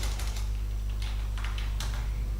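Someone types a file command on a computer keyboard: a few quick, light key clicks over a steady low electrical hum.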